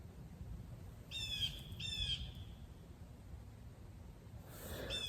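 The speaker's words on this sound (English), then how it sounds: "when those birds come around like that, I've learned to take it as a warning" Birds in wet woods after a light rain let out harsh, squawking caw-like calls: two close bursts early on, then another fainter call near the end, over a steady low background rumble.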